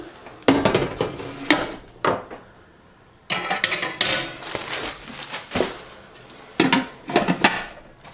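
Hard plastic parts and a lid of a Ninja Possible Cooker clatter and knock together during assembly, with irregular close bursts of clunks and rattles separated by brief pauses.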